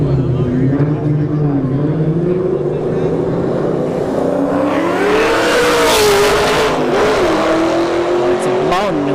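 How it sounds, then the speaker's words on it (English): A blown New Edge Mustang and a Camaro on a drag strip, engines droning and then rising in pitch as they rev and launch with a loud surge, while an announcer talks over the racing. "All right, New Edge versus a Camaro"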